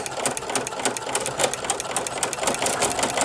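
A Baby Lock sewing machine with a ruffling foot set to gather every 6 stitches runs steadily up close, a fast even whir with rhythmic clicking pulses from the ruffler throughout.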